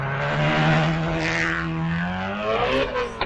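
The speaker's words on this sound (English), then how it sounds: "Proper angry sounding engine." A sprint race car at the Llandow British Sprint Championship roars past with an angry, high-revving engine, a loud sustained howl that slides down in pitch as it passes, with a brief crackle at the end.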